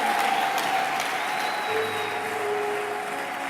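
A church congregation applauding, a dense, steady wash of clapping from many hands that fills the room at an even level, with faint tones ringing beneath it.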